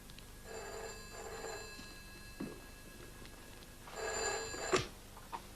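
An old telephone bell rings indoors in two bursts, a pause, then another ring, fairly faint with a few small knocks and clicks around it and no one talking.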